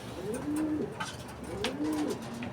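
Racing pigeons of the Bernasa line coo in a loft at night before a derby, two clear rolling coo phrases close by, with faint bird chirps in the background.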